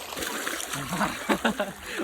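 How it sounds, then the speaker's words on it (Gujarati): Fish splash and slosh water in a few quick bursts, close by, in a yard, with soft trickling between them and a voice murmuring faintly underneath. "પાણી ઉડાડે"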